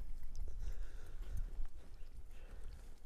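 A horse walks at a steady pace during a riding and collection training session, hooves clip-clopping in an irregular rhythm at close range, with faint background ambience and no clear speech.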